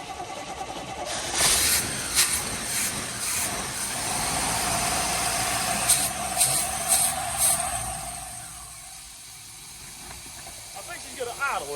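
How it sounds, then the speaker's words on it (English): 1973 Chevrolet K5 Blazer, just revived after more than 30 years, idling moderately under a voice, with a few sharp clatters, before the engine note fades low near the end. "I think she's gonna idle there for us if she don't die."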